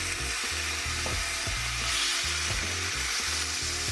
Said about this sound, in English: So I'm just gonna take it out and add it to the pan and sear it on both sides.